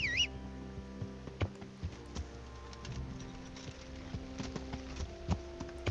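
Horse hooves in the medieval video game Kingdom Come Deliverance, a soft irregular clip-clop of steps under steady game ambience and a faint musical tone, no talk.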